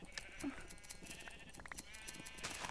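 A Minecraft sheep bleats once clearly early on, a short wavering call over busy minigame music, clicks and other blocky game effects.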